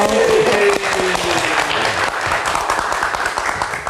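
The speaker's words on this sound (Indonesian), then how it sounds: "Tepuk tangan sekali lagi dong." A studio audience at a live Indonesian talk show bursts into loud, dense applause that holds steady throughout, with a faint tone and some voices mixed in near the start.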